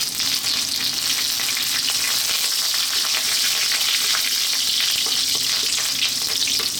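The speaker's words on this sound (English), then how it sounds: "We're now going to drop in our curry leaves, fresh curry leaves." Fresh curry leaves dropped into hot oil on high heat for a fish curry, giving a loud, continuous crackling sizzle that stays steady throughout with no voices.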